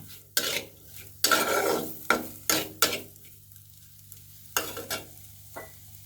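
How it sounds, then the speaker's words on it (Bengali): Fish with salt being stirred in a pan on the stove before any oil goes in, giving several distinct scraping strokes with short rests between them, close and fairly loud, with no talking. "এবার একটু এটা লবণটা দিয়ে একটু নাড়াচাড়া করে দিই"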